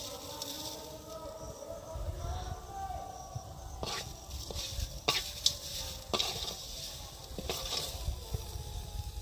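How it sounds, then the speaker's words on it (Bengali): Chhena stirred with sugar in a pan, a soft faint sizzle with intermittent scraping strokes of a spoon against the pan bottom, close but quiet. "অল্প করে চিনি দিয়ে এখন নাড়তে থাকবো।"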